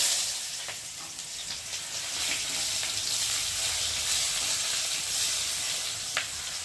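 Hot oil sizzles steadily and loudly as cumin seeds and onion fry, a constant crackling hiss with a few sharper pops.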